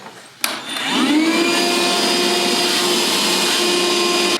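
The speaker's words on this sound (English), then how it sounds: "you can vacuum the backside, Elaina, real quick." Vacuum cleaner used on the back side of a Clopay wood grain garage door panel, starting with a click and spinning up to a loud, steady whine that continues close and unbroken to the end.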